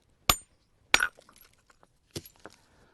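Hammerstone striking a flint core to knock off flakes while shaping a stone tool: three sharp, bright cracks spaced about a second apart, each followed by faint small clicks and rattles of falling chips, close and otherwise quiet.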